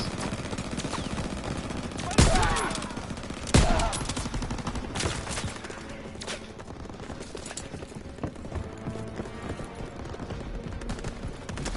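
A machine gun firing from a house in a World War 2 Call of Duty game, with sustained dense bursts of automatic fire and a couple of louder impacts over a constant battle din.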